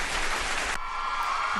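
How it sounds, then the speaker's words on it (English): A brief burst of audience clapping for comedian Jen Thomas at a live stream, dense and close, cutting off abruptly partway through. "Give me some claps for Jen."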